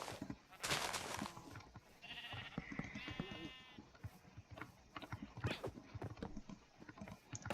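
Sheep bleating in the Minecraft video game, several short cries from the flock near a farm pen, mixed with blocky footsteps and game noises at moderate loudness.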